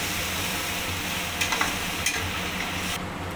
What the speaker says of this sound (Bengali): সমস্ত মশলাগুলো আমি নাড়িয়ে নেব ভালো করে।